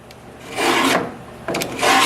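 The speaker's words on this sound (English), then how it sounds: "I can score up the metal that I'm going to be cutting" Sheet metal being scored before cutting, heard as three rasping scrape strokes that swell and fade, close and alone, during rocker panel repair.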